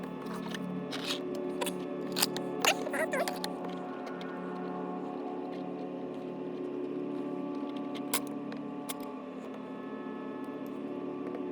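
Wire cutters trim the motor leads on a Skystars G4 4-inch long-range quadcopter build, giving a few crisp, close snips early and one more near the end over a steady electrical hum.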